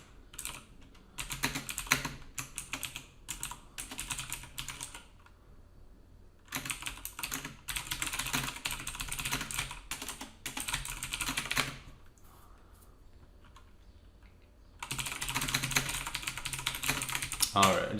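Bursts of computer keyboard typing, clattering in quick runs separated by short quiet pauses, close and fairly loud, with no voice heard.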